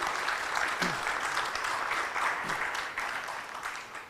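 An audience at an anniversary inaugural session gives a short, steady burst of clapping that fades slightly toward the end.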